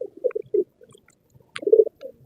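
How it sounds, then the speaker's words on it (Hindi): Soft, low pigeon cooing in short bursts, a few murmured coos with brief pauses between, close by and fairly quiet. "लो जी ये कबूतर है"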